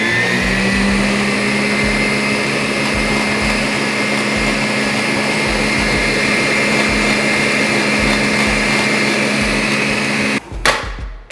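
An electric mixer beats butter for American-style cookie dough, a loud, steady motor whine with a rhythmic low churning that runs unbroken, then cuts off with a few clatters near the end.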